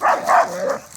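A dog barks in a quick burst of several loud, close barks next to a fence separating it from a neighbour, the last barks softening into whimpery yips.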